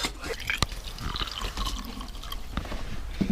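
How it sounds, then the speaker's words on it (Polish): Hot water trickles and splashes into a mug nearby, with a few sharp drips and clinks over a steady liquid hiss, no speech. "jak wlejemy do środka coś ciepłego, więc podgrzewamy wodę"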